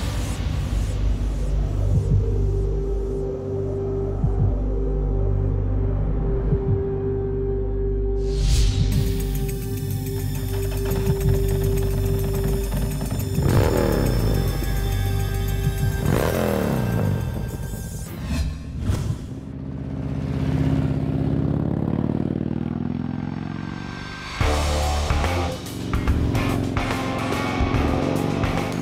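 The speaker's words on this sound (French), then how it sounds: "avec cette sonorité puissante et ces pistons qui martèlent les cylindres" A French motorcycle engine idling with a deep throb, then revving hard in several loud bursts before settling back to a rumble.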